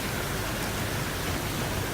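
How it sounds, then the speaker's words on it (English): Waterfall ambience in a video game level built in UDK: a steady, dense rushing wash of falling water, constant and fairly loud with no breaks or voices. "The waterfall sounds are basically just ambience, and doesn't add anything gameplay wise."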